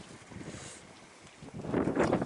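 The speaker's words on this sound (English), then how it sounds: "that's a windy wind coming" Wind gusts across an outdoor pig farm as a broad, rushing roar that swells louder toward the end, with no voices.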